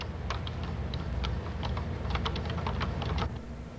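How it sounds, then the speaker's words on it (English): Keys on a Color Computer keyboard clack in quick irregular bursts as a short program is typed in, close and steady over a low background hum, with no talking. "Type in this little program."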